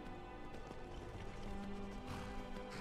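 A Skyrim horse gallops along with steady, muffled hoofbeats under a continuous background of game ambience, moderately loud and without pause.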